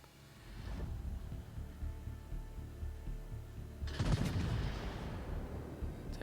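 Big naval guns on the USS Massachusetts battleship fire at the Bismarck in World of Warships. A muffled shot comes early, then a loud, sharp salvo follows with a booming, rumbling tail over steady engine drone.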